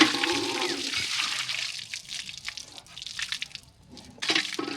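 Water trickles and splashes while being poured for drinking on a hillside near the Feni–India border, a faint uneven dribbling with small drips and pauses.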